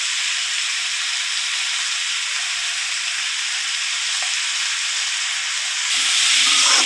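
Turmeric sizzles in hot oil in a pan while being stirred, during cooking of a greens dish with pui and pumpkin leaves. A loud, close, steady frying hiss runs throughout, growing slightly brighter near the end.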